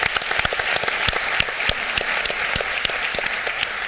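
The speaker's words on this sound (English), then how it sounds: "Let's give that a round of applause." An audience at a tech and sustainability panel gives a short round of applause, moderately loud with distinct individual claps standing out, no talking over it.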